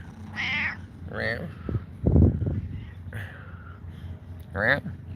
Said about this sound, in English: Attack of the cat.